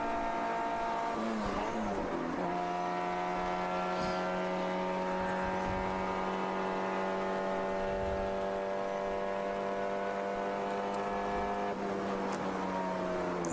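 A ChampCar endurance race car on a road course runs steadily below full throttle, its engine droning loud and close as it eases down the back straight, pitch holding fairly level with a brief dip early on.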